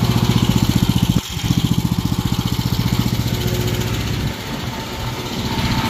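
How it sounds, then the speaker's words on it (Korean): A 13 hp engine on a high-pressure washer runs close and loud, its rapid pulsing chug dipping briefly and then picking up again as the revs rise. "온 누르고 시동, 완전 시동, RPM 올리면 밸브가 열리거든요"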